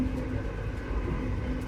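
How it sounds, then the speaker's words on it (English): Steady low rumble of a moving train rolling along the tracks, a continuous dense drone with no distinct clicks, unbroken throughout and no voices. "That's the sound of the train moving forward."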